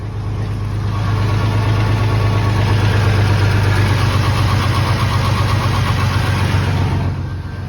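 A Ford F150 engine idles after an oil change, a loud steady low rumble close by that settles into an even drone with no talk over it.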